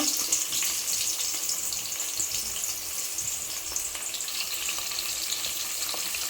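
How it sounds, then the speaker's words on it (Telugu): Onions fry in hot oil in a pan on a stove for egg biryani, giving a constant, fairly loud crackling hiss throughout with no voices. "ముందుగా స్టవ్ వెలిగించి అందులో ఆయిల్ వేసి ఆనియన్స్ వేసుకోవాలి"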